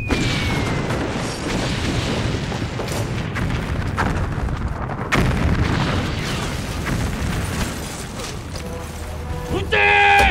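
Gunfire and blasts in an anti-Japanese war film, heavy booming bursts and rumbling under a dense mix of soundtrack, with a voice speaking near the end.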